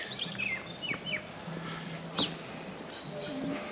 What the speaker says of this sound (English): They're pretty big parrots.